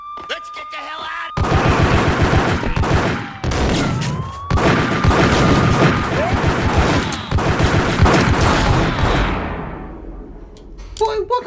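Gunfire in the Max Payne shooter game: loud, dense bursts of rapid shots with sweeping tonal sounds, continuing for several seconds before dropping away near the end.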